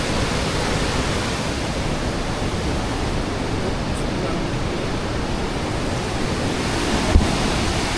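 Steady, broad rush of river water in Pokhara, Nepal fills the whole stretch at a constant level, with one brief knock near the end.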